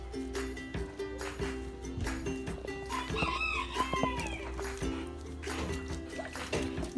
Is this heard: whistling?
no